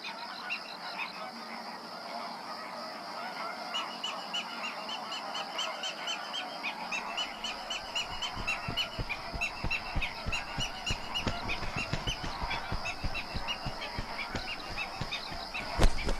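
A dense flock of flamingos in Andalusia calling continuously, honking, goose-like cries layered over each other, with a constant chorus building louder toward the end.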